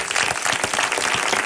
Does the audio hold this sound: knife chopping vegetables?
no